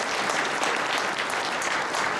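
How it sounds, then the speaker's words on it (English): An audience claps together, a continuous, even patter of many hands filling the room without pause. "clap for Sandy, you got it"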